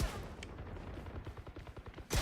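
Enemies in a shooting video game fire rapid bursts of gunfire, a fast stream of dense, close pops that runs steadily throughout, ending in a louder blast.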